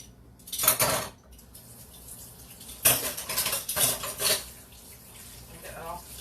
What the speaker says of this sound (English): I'm going to actually use a whisk to mix it because I think it does better.